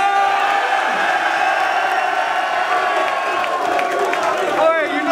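Crowd at a Don't Flop rap battle in Leeds cheering and whooping together, a loud, steady roar of many voices with shouts rising through it, close and continuous throughout.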